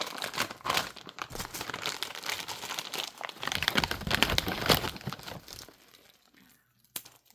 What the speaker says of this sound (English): Opened a bag, open the tubing